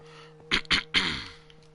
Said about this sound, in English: Once I'm finished coughing.